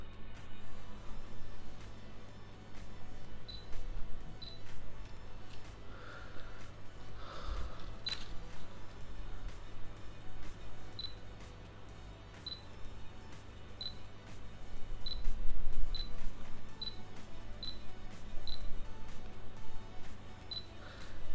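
Fujifilm X-S10 mirrorless camera firing its shutter in a quiet room: a run of small, crisp clicks spaced about a second apart, faint and close, over a steady low hum.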